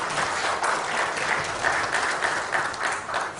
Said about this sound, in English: So please welcome Dr. Omkar Rai with a round of applause, please.